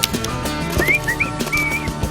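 A person whistles a short, wavering melody of a few rising notes over crackling, knocking background sounds at a campsite with a fire.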